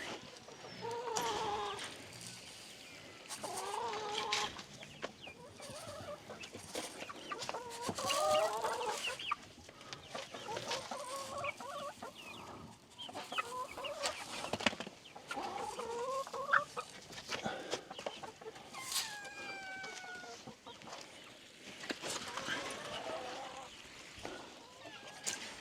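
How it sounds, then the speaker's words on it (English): Five new baby chickens in a small coop give scattered, irregular clucks and chirps at close range, rising and falling in short bursts over roughly half a minute, with some rustling between calls. "I have 5 new baby chickens in here"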